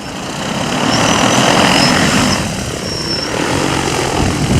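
A KM70 agricultural spraying drone lifts off in strong wind, its rotors giving a loud, steady roar that swells and then holds close by, with no talk over it.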